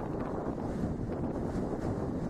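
Wind gusts roar and buffet the microphone on a cold, stormy Swedish mountainside near Idre, a steady low rumble with no talking.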